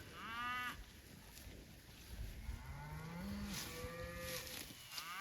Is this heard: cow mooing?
yes